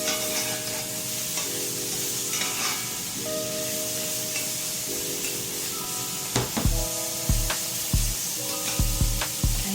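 Shrimp sizzle steadily in a pan for fettuccine Alfredo, a continuous close frying hiss with faint kitchen hum, broken near the end by several sharp clinks and scrapes as the shrimp are turned.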